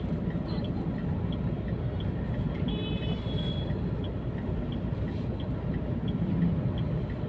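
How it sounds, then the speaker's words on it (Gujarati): Dense traffic jam in a town in Uttar Pradesh, with tempo and tractor engines among the vehicles, gives a steady, close engine rumble and road noise that holds without a break for the whole stretch. "આગળ ટેમ્પો આવે છે, ટ્રેક્ટરના આપણે સાઈડ મારતા મારતા જવાનું"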